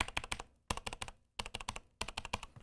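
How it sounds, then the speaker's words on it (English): Typing on a Corsair mechanical keyboard with its own version of Red switches, four quick bursts of crisp clacking keystrokes separated by brief pauses, close and clear. "it's a standard mechanical keyboard sound"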